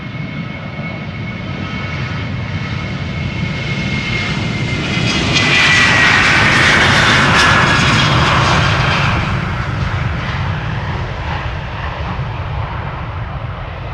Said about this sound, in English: KLM 1231 has taken off already. Well, it's taking off, I should say.